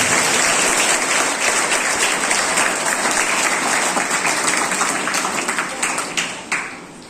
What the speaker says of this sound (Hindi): एक बार मैं हाउस से इनके नाम पर एक ताली देना चाहूंगा हमारे।